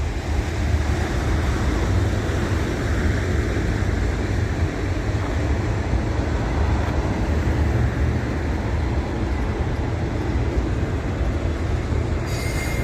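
Long freight train rolls past close by, a continuous loud rumbling roar of rail cars with uneven, bumpy wheels thudding and clattering on the track, steady throughout with no talking.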